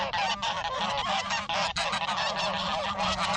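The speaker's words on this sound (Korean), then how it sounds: "그레이는 교미를 성공적으로 맞췄을 경우엔 항상 고개를 들고서 포효를 한다" A male goose on a small farm honks loudly and continuously, a dense run of harsh nasal calls close by with barely a pause, no voices present.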